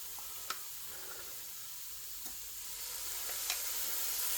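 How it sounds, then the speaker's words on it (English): Steady sizzle of one large chopped onion frying in a pan for pork adobo, with a few sharp scrapes and clicks of the stirring utensil against the pan over the continuous hiss. "I'm going in here with 1 large chopped onion."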